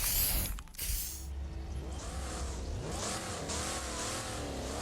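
Car engines rev and roar continuously in a Wreckfest online demolition derby, several motors rising and falling in pitch together, loud and close with no talking.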